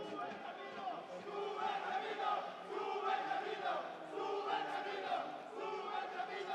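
A large crowd at a Jijantes FC versus Limon FC football match roars and chants in a steady, dense wash of voices that swells and dips but never stops.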